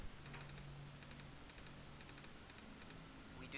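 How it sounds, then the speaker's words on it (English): Computer keyboard struck in quick clusters of faint clicking keystrokes, repeated in short bursts at a low level. "Smash the keyboard."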